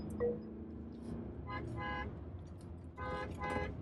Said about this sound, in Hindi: हॉर्न काफ़ी सॉलिड है।